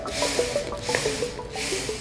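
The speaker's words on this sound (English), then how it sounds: "That's a centrifuge made of paper." A paperfuge, a hand-pulled paper centrifuge, whirs close by with a soft, rising and falling rubbing buzz that pulses repeatedly as the disc spins up and slows.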